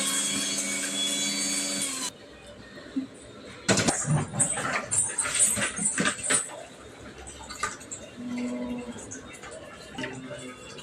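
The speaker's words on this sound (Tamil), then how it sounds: "இந்த அரை பூண்டு இஞ்சி முந்திரி பருப்பு பச்சை மிளகாய் இது எல்லாமே அரைச்சி ஒரு பேஸ்ட் ஆக்கிக்கலாம்" A kitchen mixer grinder whirs loudly while grinding garlic, ginger, cashews and green chillies into a paste, then cuts off after two seconds. Clattering, knocks and people talking follow.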